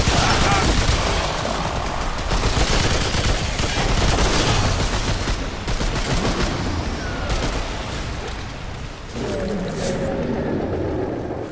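Gunfire in the video game Remnant 2 in a dark canal level, a dense, continuous barrage of loud shots and booms that fills most of the stretch.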